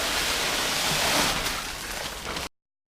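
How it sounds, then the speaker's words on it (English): Water tipped from a tub over dry cement for hand-mixing concrete, a steady broadband rushing splash for about two and a half seconds that eases slightly before it cuts off abruptly, with no talk. "Another tub of water over the top."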